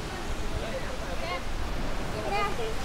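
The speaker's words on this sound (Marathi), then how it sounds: "इकडनं हा असा उंच असा झरा वाहतोय" A tall mountain stream pours down near a waterfall at the Marleshwar cave temple in Sangameshwar, Ratnagiri, during the monsoon season. It makes a steady, close rushing wash of water, with faint voices in the background.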